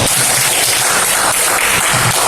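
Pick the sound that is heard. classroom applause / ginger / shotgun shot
classroom applause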